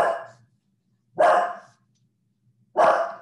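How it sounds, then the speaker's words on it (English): A dog barks three separate times, each loud, sharp bark about a second and a half apart, close by with quiet in between and no one talking. "That's Miss Beck's dog barking"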